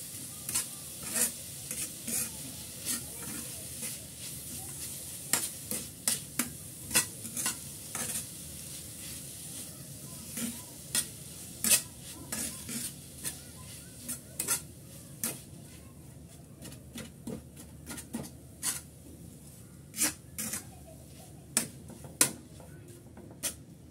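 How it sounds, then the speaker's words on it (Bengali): Jaggery melts in a pan over a stove flame while being stirred, bringing soft sizzling and frequent sharp clicks and scrapes of a utensil against the pan, close and steady with no talk. "গুড়টা গলা পর্যন্ত সুন্দর মতো আমি নেড়ে চেড়ে গুড় গলিয়ে নিচ্ছি চুলার"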